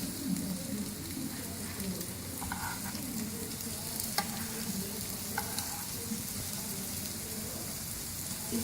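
Peshawari chapli kababs fry in oil over a medium flame, giving a constant, even sizzle close by with occasional faint spatters and taps. No voices are heard.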